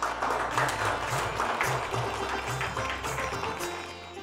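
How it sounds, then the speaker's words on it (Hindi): A crowd applauds to welcome a guest onstage at an event, a steady wash of clapping heard alongside background music. "जोरदार तालियों से आप भी गौरांगी का स्वागत करें।"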